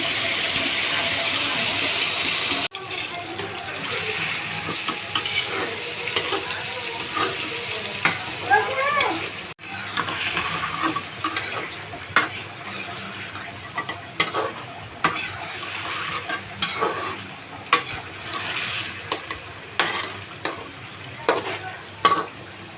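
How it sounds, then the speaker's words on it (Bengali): Marinated chicken juices poured into a hot pan of frying chicken, giving a loud watery hiss and sizzle at first, then ongoing frying with frequent sharp scrapes and taps of a spatula stirring. "এখন চিকেনের যে ঝোলগুলো ছিল ম্যারিনেট করা, সেগুলো এর মধ্যে দিয়ে দিচ্ছি।"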